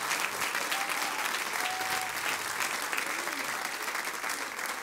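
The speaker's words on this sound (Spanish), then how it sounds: "Deme un aplauso al Señor" A church congregation gives steady applause to the Lord, a dense wash of clapping holding evenly for several seconds, with faint voices mixed in.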